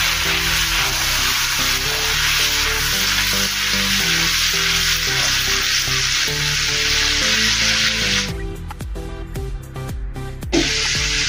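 Dal and spinach mixture sizzles and frying steadily in a pan while being stirred, loud and continuous, with a few clinks of a spoon against the pan near the end.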